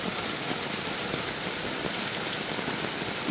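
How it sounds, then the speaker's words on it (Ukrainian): Rain pouring down outdoors beside a small garden pond, a continuous even hiss of drops striking surfaces, moderately loud and unbroken throughout with no voices. "Ого, який дощик."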